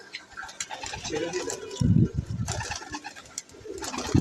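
Pigeons coo in low, throaty bursts close by, while a person talks over them.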